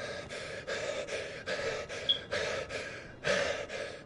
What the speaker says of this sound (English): Can you stop with the breathing so hard?